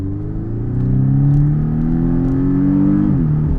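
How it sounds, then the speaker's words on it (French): A Porsche 718 Boxster S roadster accelerates hard, its engine droning loud and close from inside the car, pitch climbing steadily, then dipping briefly at a quick gear change before rising again. "on pourra refaire une accélération"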